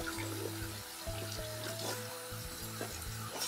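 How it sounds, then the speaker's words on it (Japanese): Hot water running from a hose at an emu and ostrich farm, a soft watery trickle and splash under steady low tonal hums, fairly quiet and continuous. "いや、ホースの中がお湯なんですよ。"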